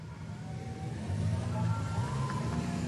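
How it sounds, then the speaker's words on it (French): A car engine rumbles steadily in a street, drawing nearer and growing slightly louder as the car pulls in, with a mid-pitched motor hum and no voices. "Sa voiture vient s'engouffrer dans la rue de la Bègue-Route, la rue de son QG."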